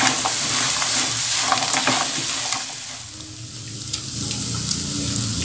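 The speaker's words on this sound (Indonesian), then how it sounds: "kita masukkan cabai yang sudah digoreng tadi kita aduk kita aduk rata" Fried chilies, bird's eye and red chilies, stirred through a thickening sweet-spicy crispy tempeh mixture in a pan, with steady close sizzling and spatula scrapes throughout and no voices.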